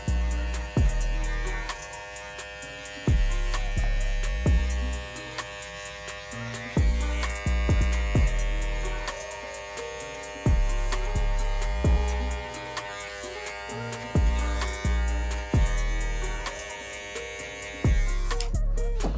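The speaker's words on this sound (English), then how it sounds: "you can take your fading clipper with a 1 open guard and trick fade any dark spots out" A hair clipper fitted with a detachable fading blade and a size 1 open guard buzzes with a steady electric hum, cut by repeated short breaks and restarts as it is worked through a fade.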